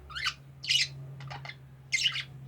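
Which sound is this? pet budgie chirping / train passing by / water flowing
pet budgie chirping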